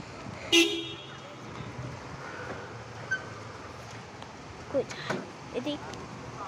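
A large vehicle passing on a road, with a sharp horn toot near the start and a few shorter bumps of traffic noise over a continuous rumble, with some nearby talk.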